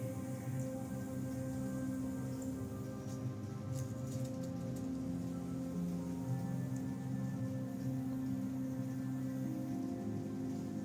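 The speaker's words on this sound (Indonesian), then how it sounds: "Di luar hujan lagi" Quiet, steady rain pattering on a surface outside, a soft continuous hiss with occasional brighter drips and no talking.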